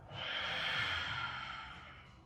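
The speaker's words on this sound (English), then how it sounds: "Big breath out." One long, deep exhale during a post-run yoga flow, a soft breathy rush that swells and fades over about two seconds, close and alone.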